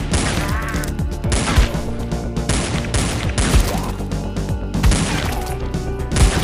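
Gunfire in the zombie-defence video game Dead Ahead Zombie Warfare, a dense run of loud, overlapping shots and impact thuds over a steady backdrop of game music and effects, with no talking.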